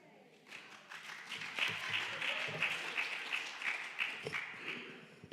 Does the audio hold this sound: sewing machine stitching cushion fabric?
no